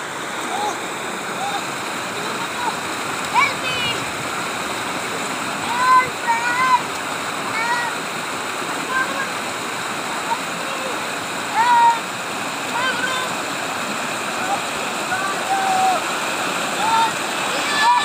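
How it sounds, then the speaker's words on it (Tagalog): Strong river current rushing over big boulders swept down from the mountains by flooding, a steady broadband roar of water with occasional splashes, close and continuous, with faint voices now and then. "Palakas ng agos guys"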